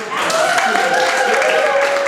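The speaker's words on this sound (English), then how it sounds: "let's give a round of applause to Timothy Monger" Sustained audience applause for Timothy Monger at a live show at Ziggy's, steady dense clapping through the whole stretch with a whistle or cheering tone riding over it.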